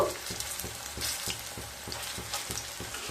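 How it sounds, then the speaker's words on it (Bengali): Pui shak pakoras, just turned over, frying in hot oil with a continuous crackling sizzle and regular soft scraping as they are moved in the pan, close and steady. "এবার উল্টে দেব"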